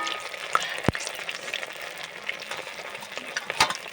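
Fish pakoras made from pomfret fry in hot oil, a steady, close bubbling crackle with a couple of sharp clicks from utensils and no voices.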